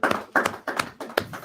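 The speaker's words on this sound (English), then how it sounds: "let's give the Most High a round of applause for the Torah Portion" Applause from a small group at a Torah portion gathering, coming in about five short bursts of clapping, each fading out before the next begins.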